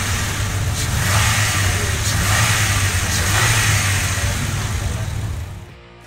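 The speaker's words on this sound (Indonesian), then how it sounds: "Kita pengen denger dulu suara mesinnya kayak apa." A 2022 Honda BR-V's 1.5-litre L15ZF inline VTEC engine runs with a loud, steady hum and low drone close to the microphone, then cuts off near the end, with no talking.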